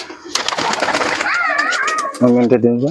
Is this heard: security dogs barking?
no